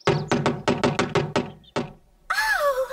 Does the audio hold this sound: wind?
no